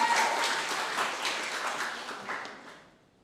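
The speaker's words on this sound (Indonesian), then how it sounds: "Tepuk tangan buat semua." An audience applauds at a university English education program event on campus, with a burst of clapping that stays fairly steady and then tapers off toward silence.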